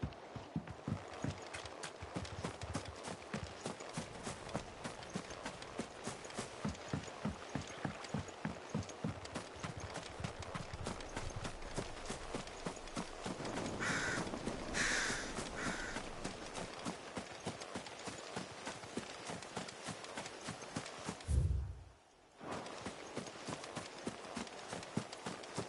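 A horse gallops on and on in the Final Fantasy XVI video game, its hoofbeats a fast, even clip-clop close by, briefly swelling midway and cut by a short thump and a gap near the end.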